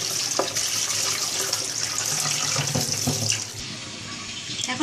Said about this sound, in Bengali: এখন শুটকিটাকে খুব ভালোভাবে ধুতে হবে, 5 থেকে 7 মিনিটের মতো শুটকি ধুতে হবে